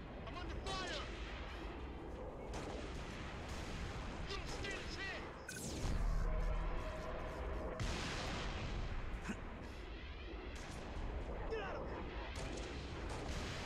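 Booming cannon blasts in Halo: Reach, dense and loud, with a heavy impact near the middle over a continuous rumble of game noise.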